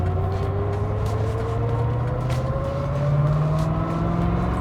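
A 1991 Chevrolet Corvette ZR1 accelerates hard in first gear. Its loud, close engine note climbs steadily in pitch over a few seconds, with no talking over it.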